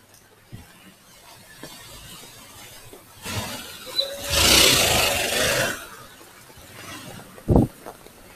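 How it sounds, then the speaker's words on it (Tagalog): Heavy rain pours during Typhoon Kristine on a dark street, swelling into a loud, dense rushing wash for a few seconds over a quieter rainy background, with a sharp thump near the end. "At malakas na rin yung buhos ng ulan."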